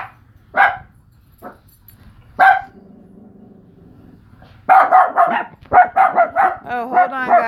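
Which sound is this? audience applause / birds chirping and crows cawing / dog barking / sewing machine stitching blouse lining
dog barking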